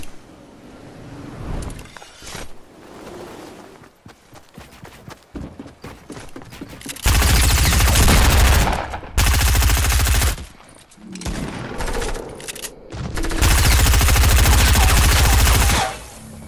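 Gunfire in a video game, including a shotgun blast: scattered shots and clatter at first, then long, very loud bursts of sustained automatic fire with brief gaps between them.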